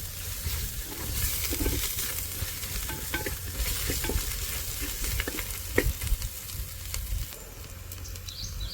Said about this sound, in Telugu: ఇప్పుడు దీన్ని మనం బాగా కలుపుకుందాం